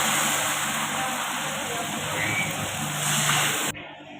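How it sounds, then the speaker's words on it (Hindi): Water is poured into a pot for beef nali biryani, a continuous rushing splash that holds steady for a few seconds before cutting off abruptly. "अपने चावलों के मुताबिक मैंने पानी डालना।"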